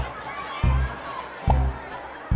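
A crowd of students murmuring in Snail Story, forming a steady low babble of indistinct voices, interrupted by two deep, loud thumps.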